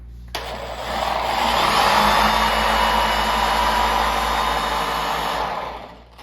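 A 15mm dual-action polisher runs on a car panel, switching on with a sharp rise into a loud, steady high whir that holds for several seconds and then spins down, with no voices.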